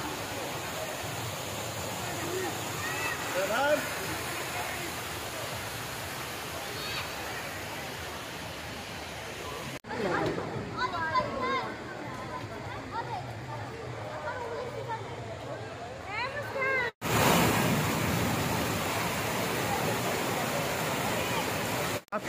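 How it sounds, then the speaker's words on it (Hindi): Rushing water at Dassam Falls, a 144-foot waterfall, making a broad continuous roar with splashing, while tourists talk and shout nearby over the steady wash of the falls. "यहाँ पर दशम फॉल में आके पानी के साथ आप खेल रहे हैं"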